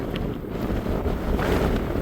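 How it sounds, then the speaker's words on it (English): Strong wind buffeting the microphone on Guadalupe Peak in the Guadalupe Mountains of Texas, a steady loud roar filling the whole two seconds with no other sounds. "I hope you can hear it because of the wind."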